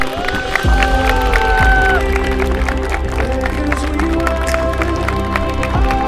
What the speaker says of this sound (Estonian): Perekond Tindemanile veel ühe suure aplausi.